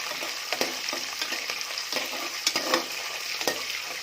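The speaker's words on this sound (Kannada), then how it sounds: "ಈರುಳ್ಳಿ ಹಾಕ್ಕೊಳ್ಳೋಣ. ಈರುಳ್ಳಿ ಚೆನ್ನಾಗಿ ಬಾಡಿಸ್ಕೊಂಡು" Chopped onions sizzle in hot oil for spinach pulao while a spoon stirs them, with soft scraping clicks at irregular intervals over a steady frying hiss, close and fairly quiet.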